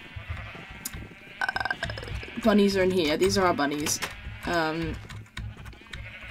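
Sheep bleat in a video game, with a couple of wavering, drawn-out bleats heard clearly while a person talks over them.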